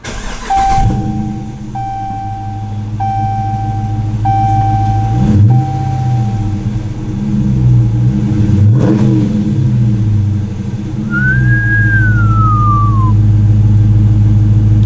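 A 2018 Dodge Challenger R/T Plus V8 idles with a deep rumble, then revs up in several short, loud bursts before settling back to a steady idle, with no talking.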